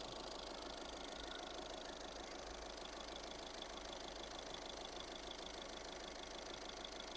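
A VW Caddy diesel engine idles steadily after a fuel filter swap, a constant mid-pitched hum with faint knocking texture, heard alone and at an even level throughout.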